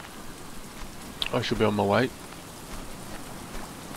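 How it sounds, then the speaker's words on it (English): Steady hissing rain falls in the survival video game Stranded Deep, a constant soft wash throughout, with a voice speaking briefly over it midway. "As soon as the rain clears up"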